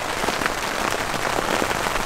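Sleet falling at a campsite about 900 metres up in early March, a dense steady patter of wet pellets hitting surfaces, close and even throughout, with no talking.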